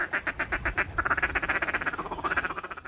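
A handheld duck call used for hunting gives a rapid run of close, loud, nasal quacks in quick rhythmic bursts, a voice-like imitation of a duck blown alone with no talking.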